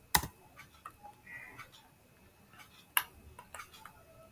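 Keys clicking on a computer keyboard as a command is typed in engineering design software, a few scattered sharp taps with pauses between them, quiet and close, no talking.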